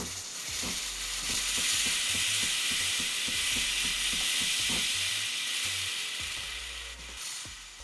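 The steam wand of a Breville Bambino Plus espresso machine gives a steady, loud, close hiss for several seconds, with faint clicking and bubbling beneath it that fades slightly toward the end.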